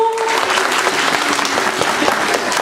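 Loud, sustained applause from a hall full of children and adults at a St. Nicholas celebration, a thick even wash of clapping with a faint tone fading early.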